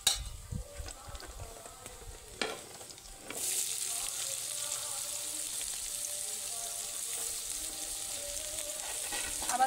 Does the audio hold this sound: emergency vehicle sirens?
no